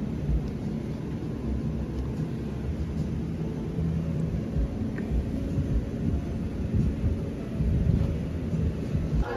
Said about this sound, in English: It started raining here